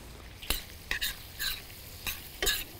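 Shrimp with spices stirred in a pan, five or six distinct scraping strokes over a soft sizzle, close and evenly spaced, with no talking.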